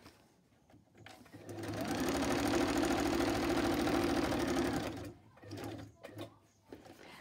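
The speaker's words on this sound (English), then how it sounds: "I'll just pass them through my sewing machine like a production line" A sewing machine stitches fabric in a steady, loud mechanical whir lasting several seconds, stopping abruptly, followed by a few short bursts of handling noise.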